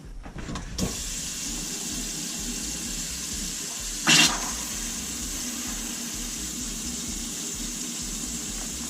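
Steady broadband rush of water running through the plumbing of a winterized summer home as the system is flushed, a constant hiss with a brief louder surge in the middle, no talking.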